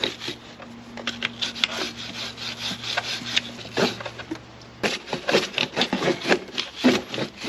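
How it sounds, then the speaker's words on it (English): A brush scrubbing the chain of a Honda CB650R motorcycle while the wheel is rotated, close rhythmic rasping strokes, fairly quiet, with a faint hum under the first half. "So while you're scrubbing it, you make sure that you are rotating the wheel."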